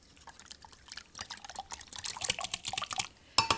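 Egg, milk and Worcester sauce are mixed together in a bowl for muffin batter, giving soft irregular wet sloshing and clinking strokes that grow busier, close and alone.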